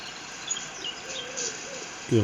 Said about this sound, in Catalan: A veure, deixa'm escoltar els ocells.